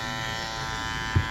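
Electric hair clippers buzz steadily and close-up after a coat of clipper spray, a constant even drone ending in a short low thump.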